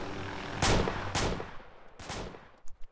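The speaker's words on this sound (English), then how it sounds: "I don't see what you guys are shooting at" Gunfire in the video game ARMA 2 on a snowy map, three separate sharp cracks spaced about half a second apart with short echoing decay, fairly faint and distant.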